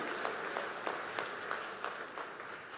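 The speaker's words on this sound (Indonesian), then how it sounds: "Tepuk tangan yang meriah begitu." Steady, moderately faint applause from a church congregation at a revival service in Surabaya, a continuous wash of many hands with a few sharper claps standing out, no talking over it.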